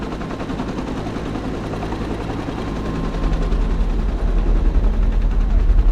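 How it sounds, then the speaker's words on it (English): A helicopter in the Made Man video game, with a rapid thudding rotor chop over a dense rumbling game soundscape that swells louder midway, steady and close with no talk. "He sees a helicopter and has a Nam flashback."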